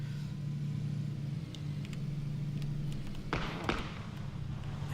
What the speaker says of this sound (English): They've just pulled up straight in front of Captain Bronx.